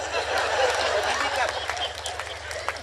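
An audience at a Hindi comedy poetry show claps in a brief burst of dense, fairly loud applause mixed with crowd murmur, over a low steady hum.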